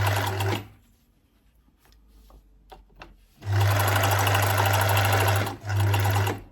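A mechanical sewing machine stitching a denim skirt, running in a steady loud whirring burst, pausing for quiet handling clicks, then running again in two longer bursts.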